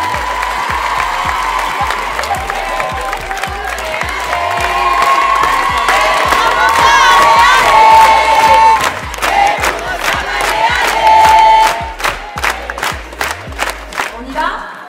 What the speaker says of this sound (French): On va applaudir Sam, s'il vous plaît.